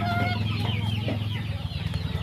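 A flock of chickens on a Bohol farm keeps up a steady run of overlapping clucks nearby, with a constant low rumble underneath.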